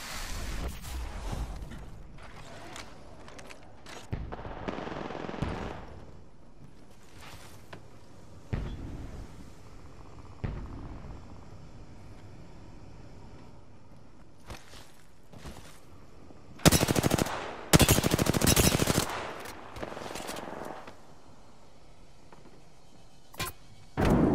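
Gunfire in a console first-person shooter match, with scattered single shots and short bursts at moderate distance, and a few loud, dense volleys near the end. No one speaks.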